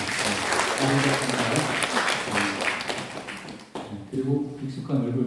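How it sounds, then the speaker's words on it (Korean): A church congregation at Sunday worship applauds in welcome, brisk clapping heard close and fairly loud, with someone speaking over it, a brief dip, then the clapping and talk resume together. "우리 환영의 박수 부탁드리겠습니다"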